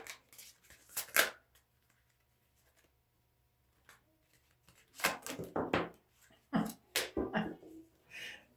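Tarot-style cards being shuffled by hand for a one-card draw, a few short dry riffles and flicks separated by pauses, close and fairly quiet, with a soft voice speaking between them.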